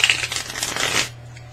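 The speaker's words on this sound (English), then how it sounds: "I'm going to actually be shuffling and drawing the cards on camera" A deck of tarot cards shuffled by hand, a close riffling rustle lasting about a second before stopping, with a low steady hum continuing underneath.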